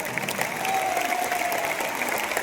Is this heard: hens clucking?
no